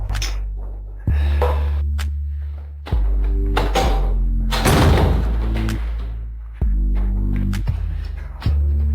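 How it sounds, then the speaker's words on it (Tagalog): Loud heavy thuds and a clattering burst as a door is pushed shut, with repeated low booming impacts and a steady hum between them. "isara mo ang pinto"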